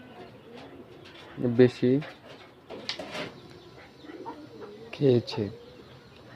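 Free-ranging domestic pigeons coo softly in low, rolling calls that come in short bursts, with a person talking nearby.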